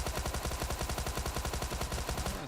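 A Tommy gun fires continuous suppressive automatic bursts in PUBG Mobile, a steady rapid rattle of evenly spaced shots, close and constant for the whole stretch with no talk.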